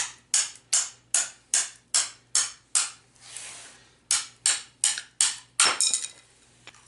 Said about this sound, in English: And then we're going to take our hammer just above it.